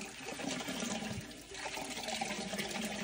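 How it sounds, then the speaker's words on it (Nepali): Cold drinking water runs from a tap in a steady, fairly loud gush and splash for the whole stretch, with no talking. "यो हाम्रो खाने पानी यहाँ यस्तो चिसो कलल पानी आउँछ कि"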